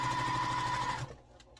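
A sewing machine stitches quilt block pieces together, giving a steady fast mechanical whir with a hum for about a second before stopping, followed by a few faint clicks.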